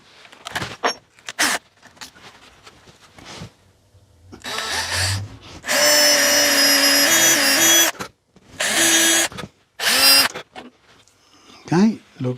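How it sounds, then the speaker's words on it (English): A small electric drill with a 3mm bit whines loudly in several sustained bursts, close up, with shifting pitch and scattered handling noises between runs. "drill a vertical hole through here for this flag to slot into"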